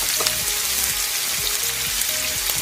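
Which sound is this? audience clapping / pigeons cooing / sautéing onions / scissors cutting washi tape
sautéing onions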